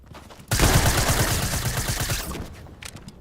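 Loud, rapid automatic gunfire in a video game on a volcano-themed map, a dense near burst lasting almost two seconds, followed by a few faint clicks.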